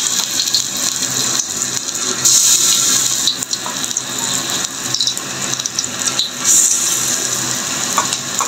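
Mustard flower fritters go into hot oil, bringing a loud, close, continuous sizzle and crackle with brief bursts of sharper spitting, with no voices over it.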